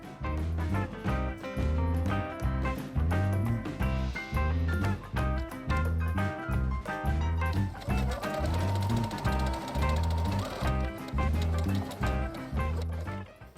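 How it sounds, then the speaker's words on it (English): Domestic sewing machine stitching quilt binding fabric strips together, a steady rhythmic mechanical chatter of needle strokes, loud and close, running continuously without pause. "I combine the strips by laying one perpendicular to the other and sewing right along the middle here"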